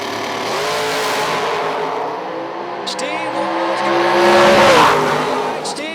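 Drag race cars roaring down the strip at a bracket nationals event, a loud sustained engine blast swelling as the cars pass, with an announcer talking over it.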